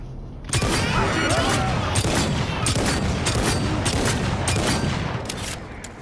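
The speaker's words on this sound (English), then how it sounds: "this is a non-suppressed revolver." Non-suppressed Mancinella revolver firing in Cyberpunk 2077, a run of loud, close gunshots with booming reports repeating through the whole stretch over game effects.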